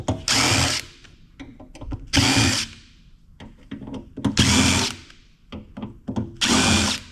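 A power drill fitted with a number 2 Phillips bit backs screws out of a heavy Peavey amplifier chassis being scrapped, four loud whirring bursts separated by small clicks and handling knocks, with no talking.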